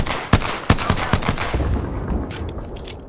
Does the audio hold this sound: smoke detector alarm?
no